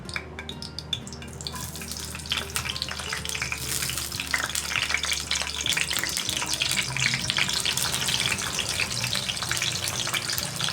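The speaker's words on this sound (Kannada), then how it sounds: "ಹಸಿಮೆಣಸಿನ್ಕಾಯಿ ಹಾಕಿದೆ, ಶುಂಠಿ ಬೆಳ್ಳುಳ್ಳಿ ತುರಿದಿರುವಂತ ಹಾಕ್ತಾಯಿದ್ದೀನಿ." Green chilies, grated ginger and garlic frying in hot oil for a rohu fish curry, a dense, steady sizzle with a few scraping stirs running throughout at close range.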